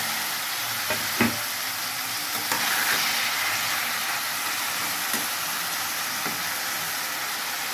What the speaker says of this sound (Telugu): ఇప్పుడు టమాటా ముక్కలు వేసేస్తున్నాం ఫ్రెండ్స్. టమాటా కూడా వేగిపోతుంది.